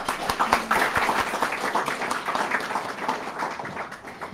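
A banquet audience at an opening dinner claps steadily throughout, a moderately close wash of many hands with a few sharper individual claps standing out.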